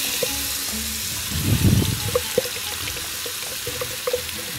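Minced onion and garlic sizzle in olive oil in a pan for a basil and olive chicken sauce, a constant hiss with a louder burst of stirring and a few light knocks, nearby and with no talk.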